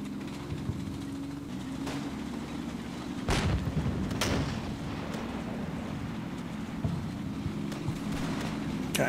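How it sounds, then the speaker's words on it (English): A Sexton self-propelled artillery gun fires in Combat Mission, heavy booming blasts, two prominent, over a constant low rumbling battle bed, distant and steady. "Sexton's still blasting away at that building."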